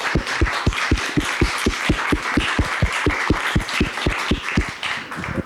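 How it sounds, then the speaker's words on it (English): Audience applause for a panel at a careers workshop at Clackamas Community College, with steady, evenly spaced loud claps forming a sustained, rhythmic round of clapping throughout. "Round of applause"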